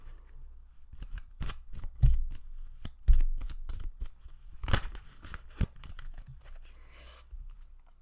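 Tarot cards are shuffled by hand in a run of close, crisp riffles and taps, with papery flutters at irregular intervals and no voice over them.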